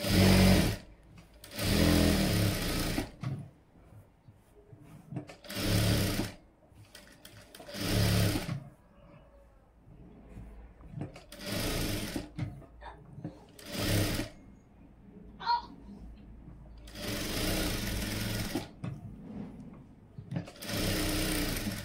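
A sewing machine stitches blouse fabric and lining in repeated short bursts of fast, close whirring. Quiet gaps between the runs carry faint handling noises.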